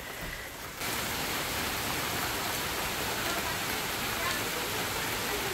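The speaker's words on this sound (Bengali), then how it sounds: "বৃষ্টি পড়ছে, ঝিরিঝিরি বৃষ্টি।" Continuous soft hiss of light rain falling, steady and even throughout with no other sounds standing out.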